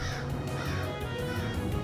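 Several crows caw loudly and continuously, their harsh calls overlapping in a dense flock with no pauses for the whole stretch.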